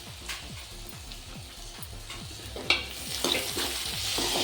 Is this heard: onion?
yes